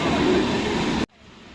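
A passenger train rumbles steadily along with a loud, continuous roar, then the sound cuts off abruptly after about a second.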